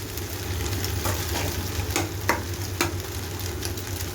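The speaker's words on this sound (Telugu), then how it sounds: "ఎగ్ని ఇలా ఒక 2 minutes ఫ్రై చేసేసి" An egg frying in a pan for chicken fried rice gives a steady moderate sizzle with a low rumble beneath and a few sharp scrapes or taps of a utensil.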